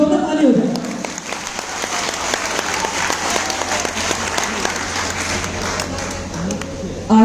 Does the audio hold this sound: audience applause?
yes